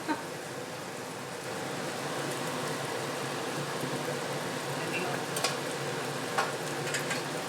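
Onions caramelize in a pan for an Indian curry with a soft, steady frying crackle, a few sharper pops and clicks standing out near the end.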